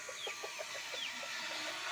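Basilan and Chinese chickens cluck softly in a quick, irregular series of short calls, fairly faint against a steady background hiss.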